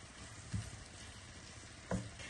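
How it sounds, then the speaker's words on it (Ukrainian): Onion and carrot frying in butter in a pan, stirred for homemade cabbage rolls: a steady faint sizzle with two brief louder scraping stirs. "І перемішуємо, поки масло не розтане."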